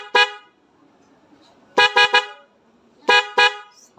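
Newly installed loud horn on a Yamaha Mio Soulty scooter, sounding in short bassy honks: one single blast, then a quick triple, then a double, close and loud with quiet gaps between.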